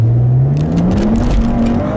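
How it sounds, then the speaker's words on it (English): A tuned 2015 Maserati Ghibli S Q4 with all-wheel drive accelerates hard in manual mode, its loud engine note climbing steadily in pitch as the turbos spool up, close and continuous. "when those turbos spool up, man, they spool up"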